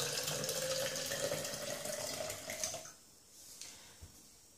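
Water poured into a SmartShake shaker up to 400 ml: a steady, close splashing pour for about three seconds that stops abruptly, leaving a few faint drips.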